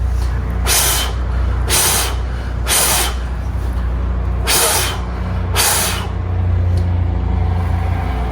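Five short bursts of air blown into a car electrical connector while fitting it back in place on a 2021 Camaro SS, each puff a hissing rush lasting about half a second, close to the mic over a steady low hum.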